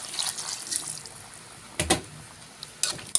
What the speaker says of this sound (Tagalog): 2 cups ang ilagay kong tubig para pangpalambot sa ating kaini